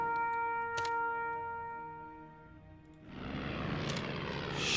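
Axis and Allies RTS air raid: propeller aircraft engines drone steadily, swelling into a loud, rough roar of several planes passing overhead, with occasional sharp bursts mixed in.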